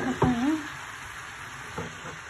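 Kabab stir fry being stirred in a pan, with a brief scraping clatter near the start and softer sizzling and utensil scrapes after, fairly close and moderate in level.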